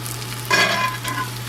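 Seitan roast frying in a pan with butter gives a soft, steady sizzle that swells briefly partway through, heard close up with no talking and a low constant hum underneath.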